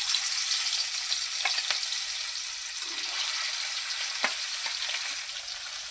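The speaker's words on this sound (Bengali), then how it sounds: "এবার মাছগুলো আমি তেলের মধ্যে দিয়ে দিচ্ছি।" Hilsa fish pieces frying in hot mustard oil in a kadai, a bright steady hiss with a few spatters and clinks, close and loud, easing slightly near the end.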